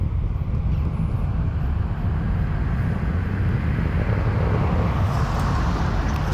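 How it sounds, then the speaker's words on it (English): Distant SpaceX Falcon 9 first-stage booster B1071 landing at Vandenberg after launch, a steady broad low rumble of rocket engines sustained throughout, partly blended with passing car traffic and wind on the microphone. "the roar that you're hearing now is the roar of the engines when it's coming"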